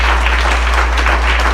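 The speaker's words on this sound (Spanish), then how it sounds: "Alguien le da un aplauso a Dios en esta mañana." A church congregation claps together during a Christian sermon, a brief burst of dense applause over a steady low hum from the room's sound system, fairly loud and continuous.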